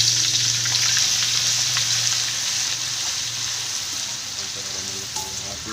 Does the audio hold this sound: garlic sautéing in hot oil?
yes